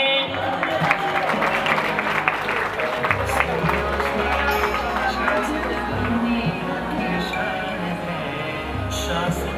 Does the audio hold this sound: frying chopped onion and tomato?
no